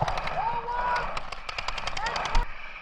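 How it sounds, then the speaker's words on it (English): A paintball gun fires a rapid string of sharp pops during an outdoor paintball game, a quick burst of close, loud shots with a bright whistling tone running beneath them. "You were shooting at me?"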